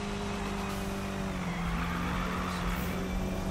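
A car drifting in the racing video game Need for Speed 2015 on Xbox One, with a continuous loud engine drone and tyre noise holding steady throughout.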